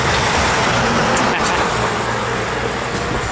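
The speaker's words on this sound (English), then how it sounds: "Here comes the surf truck." Surf truck rolling past on a street at the edge of town, a loud, continuous engine and tyre roar that swells and stays close throughout, with traffic-like noise and no talking.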